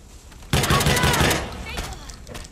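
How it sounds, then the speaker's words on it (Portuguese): Gunfire in the video game Watch Dogs 2: a loud burst of rapid shots at close range, followed by a few more scattered shots as the noise tails off. "Enquanto eu continuar aos tiros, vão aparecer mais."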